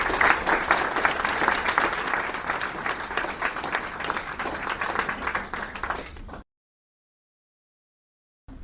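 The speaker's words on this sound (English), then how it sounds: "Ladies and gentlemen, would you please welcome Frank Brennan." An audience at a question-and-answer event bursts into dense, steady applause to welcome a speaker, many hands clapping together for about six seconds before it cuts to silence.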